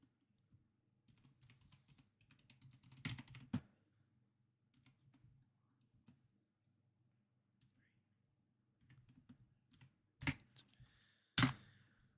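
A code is typed on a keyboard in the video game ADACA as faint scattered key clicks under a quiet low hum, with a few louder taps near the end.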